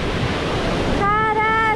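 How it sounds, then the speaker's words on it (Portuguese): The Vale da Lua waterfall in Chapada dos Veadeiros, Brazil, roars as a steady, loud rush of water close to the microphone. A raised voice joins partway through. "Olha a força dessa água."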